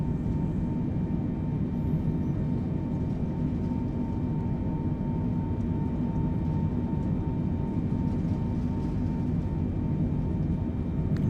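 Four engines of an Antonov An-124 spooled to full takeoff thrust in Microsoft Flight Simulator 2020, a steady, dense roar with a faint high whine, unbroken and alone for the whole stretch.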